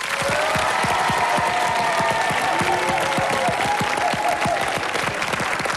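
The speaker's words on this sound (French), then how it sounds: "Quelques applaudissements pour notre équipe bleue." Steady applause from a television game-show studio audience, many hands clapping continuously with a dense, even texture and no voices standing out.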